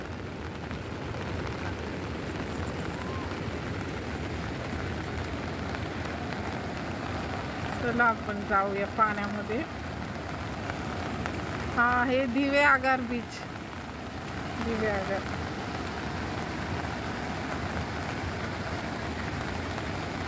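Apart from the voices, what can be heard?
rain falling at Diveagar beach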